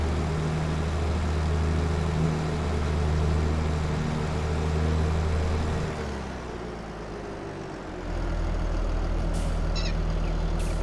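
Traffic vehicles in Farming Simulator 22 rumble past nearby, a steady low engine drone with a truck-like hiss and a brief quieter lull before the road noise swells back in.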